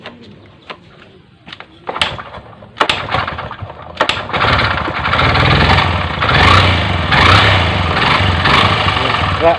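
Honda CB125 motorcycle that had trouble starting, with clicks and brief attempts before the engine catches and settles into a loud, steady close-up idle, with voices heard over it.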